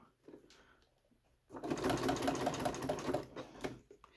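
A sewing machine stitches a zippered taco bag at a short, dense stitch setting, starting after a quiet pause and running in a fast, even rattling burst for about two seconds before slowing to a stop.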